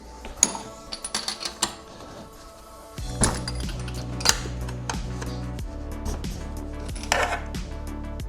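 Metal ratcheting and clinking of a 13/16 socket loosening NGK BPR9ES spark plugs on a snowmobile engine, with scattered sharp clicks early, then a steady low hum beneath repeated close, crisp ratchet ticks.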